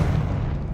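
A Confringo fire spell explodes in the Hogwarts Legacy video game, one loud, low, rumbling boom that stays heavy for its short length.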